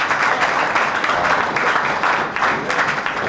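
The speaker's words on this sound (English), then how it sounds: "We give them a round of applause." At a keys to the city ceremony, an audience applauds, loud dense clapping that holds steady throughout the short stretch.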